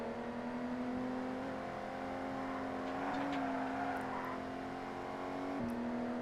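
A race car accelerates in ToCA Race Driver 2 with a steady, droning engine whine that shifts pitch slightly as it revs, broken by a gear change near the end, constant and moderately loud.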